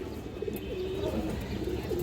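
Giribaz high-flyer pigeons coo in repeated low throaty calls, several overlapping and fairly close, over a steady background murmur with no talking.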